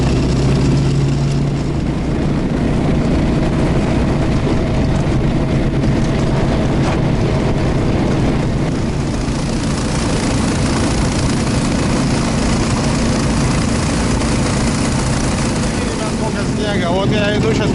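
Buran snowmobile engine at full throttle in deep snow, a loud rough continuous roar with a constant rumble throughout, the rider's voice audible briefly over the engine.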